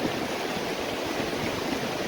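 The mountain river at Chitkul rushes past close by, a steady, loud broadband wash of flowing water with no pauses.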